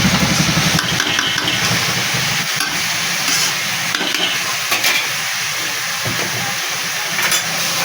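Eggplant and drumstick flowers fry in a pan, giving a loud, dense, steady sizzle and hiss up close, with occasional soft stirring scrapes and no talking.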